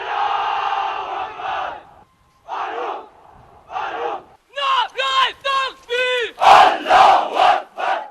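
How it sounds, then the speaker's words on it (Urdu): Cadets at the PAF Academy Asghar Khan Risalpur passing out parade shout slogans in unison, a series of loud, rhythmic massed chants, first a drawn-out call and then short, punchy bursts echoing across the parade ground. "کیڈٹس نے فلک شگاف نعرے لگا کر پوری قوم کے دلوں کو گرما دیا۔"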